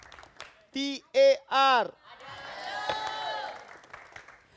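Students at a school quiz show clapping for correct answers, a burst of crowd applause and cheering that follows a loud voice calling out three times.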